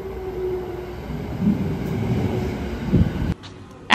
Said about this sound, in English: I boarded the Shinkansen, Japan's high-speed train